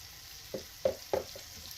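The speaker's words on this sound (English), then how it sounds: "And you want a nice sizzle." Morel mushrooms sizzle softly in a pan of butter, with a few brief stirring scrapes and crackles over a low steady hiss.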